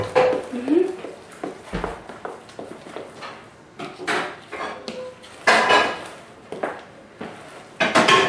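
A frying pan set down on a kitchen stove, with clanks and scrapes of cookware scattered through the scene while people talk nearby.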